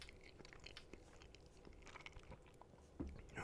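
Close, quiet chewing of a McDonald's Snack Wrap, recorded ASMR-style, with soft crunches and mouth sounds and a louder bite near the end.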